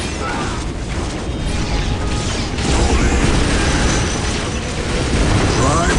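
Heavy, continuous battle rumble with booming blasts and clanking machinery as a thermoplasma generator is struck and destroyed in Warhammer 40,000: Dawn of War, dense and loud throughout with no clear pauses.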